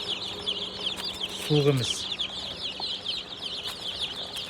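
Young chicks kept warm on wood-shavings bedding peep in rapid, high chirps throughout, with a brief lower cluck-like call in the middle and someone speaking briefly nearby.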